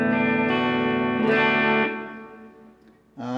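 Electric guitar chords played through a 1965 Deluxe Reverb amp with reverb and delay, a bright sustained strum ringing out and decaying into its echo tail, then a fresh chord struck at the end.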